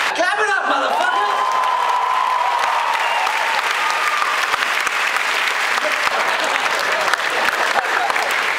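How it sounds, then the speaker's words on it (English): A comedy-club audience in Singapore bursts into sustained applause, with a few whoops and shouts rising out of the steady clapping that carries on for several seconds. "Clap it up, motherfuckers!"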